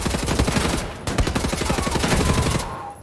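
Rapid automatic gunfire from the video game Wolfenstein: The New Order, a dense, loud stream of shots with a brief pause near the start, then continuing steadily before cutting off.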